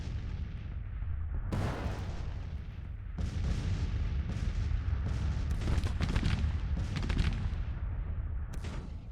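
Civil War cannon artillery in the strategy game Grand Tactician: The Civil War booms in heavy, irregular volleys, deep blasts rolling over a constant low rumble of battle, loud and sustained without speech.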